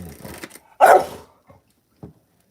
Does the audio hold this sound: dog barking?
yes